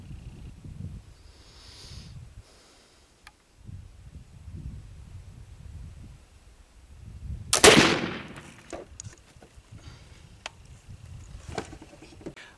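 A single sharp, loud black-powder rifle shot cracks about two-thirds through a quiet outdoor stretch of faint handling noises.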